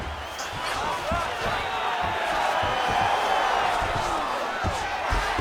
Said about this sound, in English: We'll see if the crowd can be mature about this, DC.